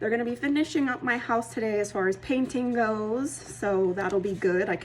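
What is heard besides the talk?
No everyday noise stands out behind the speech.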